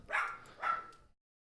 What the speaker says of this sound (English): Dog's barking at something.